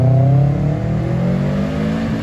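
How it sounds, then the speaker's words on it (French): Subaru Impreza Nürburgring Edition with a five-cylinder boxer engine revs loudly nearby, a sustained rising engine note with strong harmonics that holds steady throughout, with no talk. "Subaru Impreza Nürburgring Edition."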